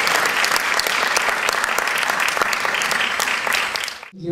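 An audience applauds student speakers at a GEAR UP event: sustained, fairly loud clapping from many hands, crisp and dense, running steadily before cutting off abruptly near the end.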